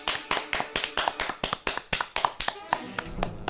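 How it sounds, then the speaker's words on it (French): Fast, steady hand clapping with sharp claps repeating about five times a second, fairly close and continuing throughout, with faint background voices. "c'est parti pour 4 minutes d'applaudissements"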